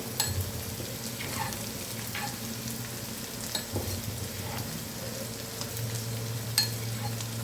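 Steady sizzling of a tempering of spices frying in hot oil for an amaranth leaf (thotakura) fry, with occasional light clicks of stirring, no voices.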